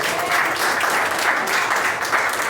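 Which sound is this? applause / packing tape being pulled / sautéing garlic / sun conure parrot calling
applause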